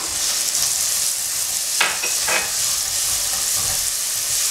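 Garlic and green seasoning sizzle steadily in a hot pan on high heat, a dense continuous crackle with a couple of brief louder bursts as the food is stirred, no voices.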